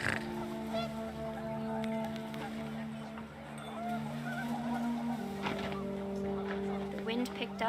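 Panicked geese honk in What Remains of Edith Finch, several birds calling in short bursts over a droning background, with one honk standing out near the end and wind noise underneath.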